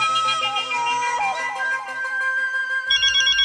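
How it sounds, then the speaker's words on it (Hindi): A mobile phone ringtone plays a bright electronic melody, clear and close, repeating its tune for a few seconds with a slight shift near the end. "वो बार बार उनके फोन की घंटी बजेगी"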